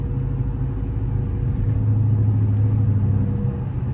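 A Dodge Charger R/T with its 5.7-liter V8 drives on a rainy morning, a steady low engine rumble heard from inside the car, smooth and constant with no sharp revs.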